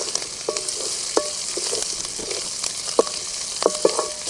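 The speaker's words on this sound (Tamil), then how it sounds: "நல்லா வெங்காயம் செவக்கணும்." Small onions frying with mint in a pan give a constant bright sizzle, broken by a run of sharp spatula clinks and scrapes as they are stirred, with no talk.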